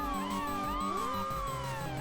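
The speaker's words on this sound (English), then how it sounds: "But the siren carries on. You can't get rid of the siren." A police siren wails continuously in the driving video game Highway Game. Its pitch sweeps up and down in overlapping tones against a steady low engine hum.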